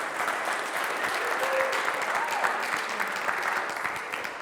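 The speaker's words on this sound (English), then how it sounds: "And we clap" An audience claps in a steady, dense wash of applause that holds evenly from start to finish, with a few faint voices mixed in.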